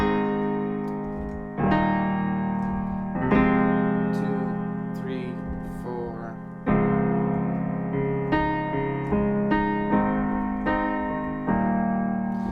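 Piano plays the verse of a song, chords struck every couple of seconds and left ringing over a slow melody, with a voice briefly counting in near the start.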